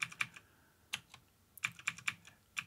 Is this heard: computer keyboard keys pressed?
yes